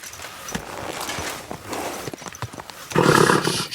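Hoofbeats from a horse ridden in Kingdom Come Deliverance 2, irregular clip-clop thuds close by with a brief whinny or snort near the end, no speech over them.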